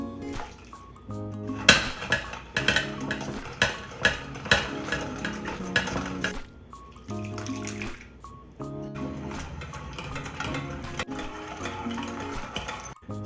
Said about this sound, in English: I'm going to use a food mill to process our juice